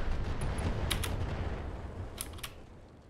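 Turret fire in the BattleTech video game thunders as heavy booming blasts, a couple of sharp cracks over a rumbling tail that slowly fades, with no voices.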